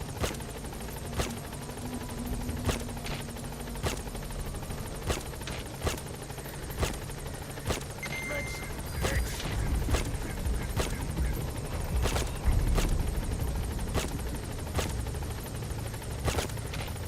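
A support helicopter in Metal Gear Solid V hovers close by with a steady, pulsing rotor thump and engine drone that swells slightly midway, joined by faint distant gunfire.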